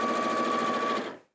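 An Elna 780+ sewing machine running steadily while stitching a cushion cover, a close, continuous mechanical whir with a fixed tone that stops abruptly at the end.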